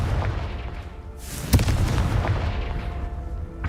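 A Confringo fire spell in Hogwarts Legacy bursts with a sharp, loud blast partway through, ringing over a continuous rumbling background of combat noise.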